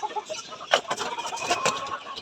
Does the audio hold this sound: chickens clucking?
yes